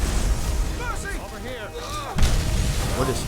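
Loud, dense video game combat with booming explosions and gunfire crackling over a continuous rumbling din, with a sharp blast partway through and a voice speaking beneath the noise.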